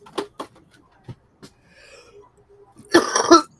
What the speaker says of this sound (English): Sorry and for my cough.